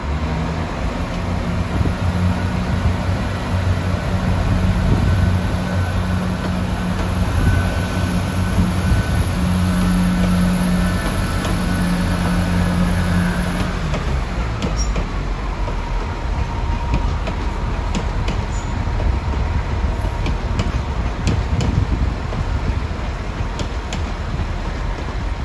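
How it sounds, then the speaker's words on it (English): Cork-bound 1600 train pulls out of Dublin Heuston station with a steady, loud engine drone and rail rumble that shifts in tone about halfway through and then carries on as a broad rolling roar. "plenty of time to catch the 1600 Cork train departure"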